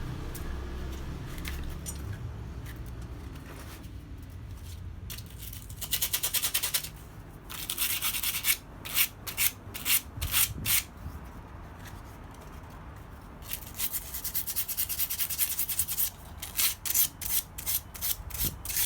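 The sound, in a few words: hand sanding a forged stainless steel spoon bowl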